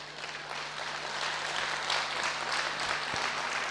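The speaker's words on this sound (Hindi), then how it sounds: "ताली किसके लिए बजाया?" Audience in a lecture hall at a Brahma Kumaris business-wing talk claps steadily, a moderately quiet, continuous patter of applause over a low background hum.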